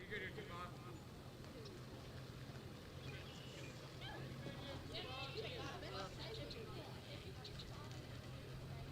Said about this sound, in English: You hear a few of the birds chirping in the background.